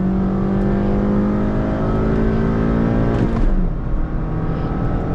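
A Hyundai Verna and a stage 1 tuned Honda City accelerate hard side by side in a drag race, loud engines climbing steadily in pitch and then dropping briefly at a gear change, heard close with no talking.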